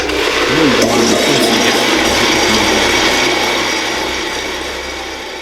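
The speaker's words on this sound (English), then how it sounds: "I don't want to overfill the blender, so I'll whiz this and come back for the rest" A blender whirs loudly and steadily, blending gluten-free brown sauce, its motor droning continuously for several seconds before easing slightly toward the end.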